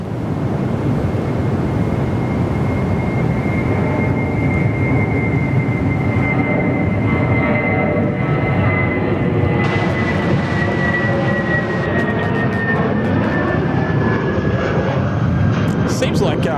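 A Virgin Australia Airbus A320 airliner takes off from runway 21 at Perth Airport, its engines roaring steadily and loud for the whole stretch while a rising, drifting whine sounds over the jet rumble.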